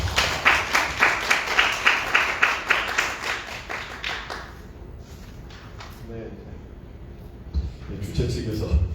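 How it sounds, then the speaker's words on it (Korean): An audience at a job and startup camp lecture applauds to welcome a speaker, with a steady run of dense clapping that fades out around halfway, followed by quieter room noise and a few scattered claps. "큰 박수로 맞아주세요"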